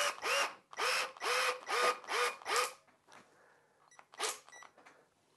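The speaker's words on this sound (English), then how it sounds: "I'm just going to drill it straight into the end about a half inch from the" A power drill drives a number 8 flathead wood screw straight into the end of a board near its edge, whirring in six short even bursts, then a pause and a couple of quicker final pulses.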